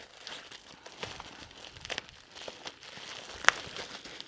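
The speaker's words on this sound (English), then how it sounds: "I hope these plastic bags aren't making a ton of noise with my mic" Plastic bags crinkling close to a microphone during an art supply haul, giving soft intermittent rustles and crackles with one sharper crunch near the end.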